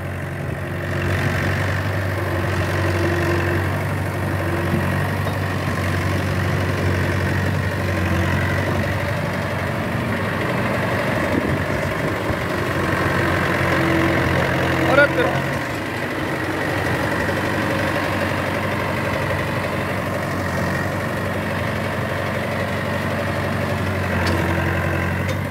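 A 30-year-old tractor idles with its trolley loaded full of soil, a steady low diesel rumble with an even throb that holds close and constant, with a single brief clank midway and no talk.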